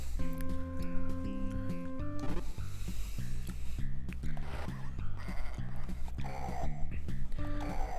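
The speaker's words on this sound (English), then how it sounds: "And I heard a single goat." A single goat bleats in a video game over steady game music with tonal notes and a low pulsing beat, the bleats rising briefly out of the dense mix.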